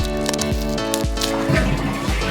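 Squelchy, wet churning as a paint and foam mixture is stirred together in a toilet, repeating in a steady rhythm of soft thumps beneath continuous music.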